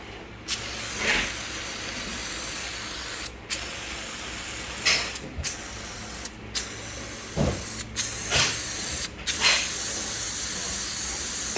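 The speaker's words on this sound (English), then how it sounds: "I need to get some degreaser onto this" Degreaser hisses from a spray can onto a Land Rover Perentie chassis under the transmission protection bar in a shed, a steady spray broken by several short pauses and bursts, with light clanks between.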